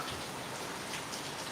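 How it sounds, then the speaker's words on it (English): Rain falling steadily, a dense even hiss of drops with no breaks, moderately quiet and alone. "It's raining."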